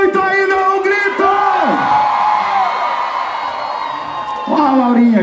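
Concert crowd at a show in Macapá cheering and yelling loudly throughout, with an amplified singer's sustained, gliding vocals over the dense crowd roar.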